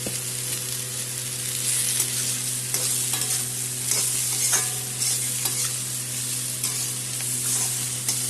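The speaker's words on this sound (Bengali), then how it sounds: "আমার সবজি ভাজা হয়ে গেছে, এখন আদা দিলাম আর কাঁচা লঙ্কা দিয়ে দিলাম আর দিলাম পেঁয়াজ" Mixed vegetables sizzle in a pan with ginger, green chilli and onion for a Bengali pulao, with a steady frying hiss, repeated stirring scrapes and a constant low stove hum, no talking.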